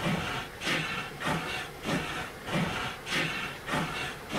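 Light-engine locomotive in Train Sim running at about 62 mph, giving a steady rhythmic chuffing hiss with regular pulses roughly every half second, loud and close with no talk over it.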